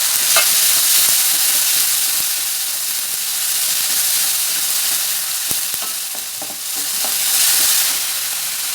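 Ginger and green chili sizzle in hot oil with cumin and asafoetida, a loud steady frying hiss with scattered crackles and pops, close by and without talk.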